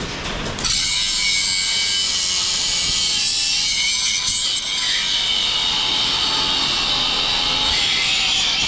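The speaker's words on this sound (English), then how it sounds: "I'm gonna go ahead and grind this a little bit" An angle grinder works on metal anchors in a steady, loud, close whine that runs for most of the stretch after a short start, shifting slightly in pitch as the load changes, with no talking.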